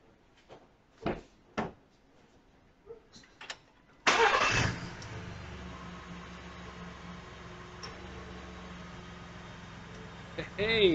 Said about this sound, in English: Start the car engine.